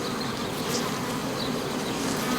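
A dense, steady buzz of many bees fills the space, close and continuous with no pauses.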